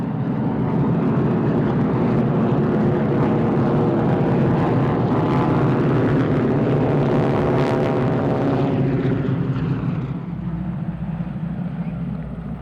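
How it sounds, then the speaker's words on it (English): A formation of AT-6 SNJ Harvard airplanes flying by, a loud, rough radial-engine and propeller roar that builds, peaks with a Doppler sweep near the middle, then drops slightly as the aircraft pass. "The AT-6 SNJ in Harvard formation flight."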